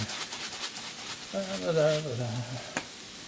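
Minced onion sizzles in an enameled cast iron pan for sloppy joes, a steady close crackle with a brief tonal, voice-like hum through the middle and a sharp clink near the end.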